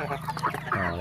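Free-range village chickens cluck softly in a short burst as they wait to be fed, close by with a low steady hum underneath.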